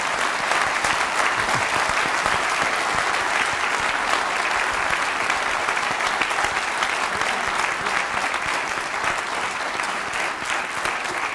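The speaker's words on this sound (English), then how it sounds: "you can have a round of applause now for Act 1 and 2." Sustained applause from a large conference audience, a dense steady wash of many hands clapping for the full duration at even loudness, with no speech over it.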